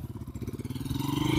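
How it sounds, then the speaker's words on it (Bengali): A motorcycle engine hums with a steady pulsing beat that builds slightly in loudness, suggesting a bike passing nearby in a brief stretch with no talk. "ওই যে বাইক যাচ্ছে"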